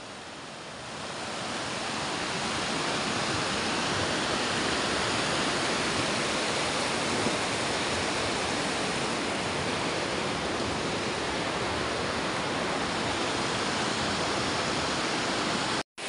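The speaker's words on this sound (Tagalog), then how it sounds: "Shenango Falls here in New York." Chittenango Falls in New York roars as a dense, continuous rush of falling water, loud and close, holding steady throughout with no voices.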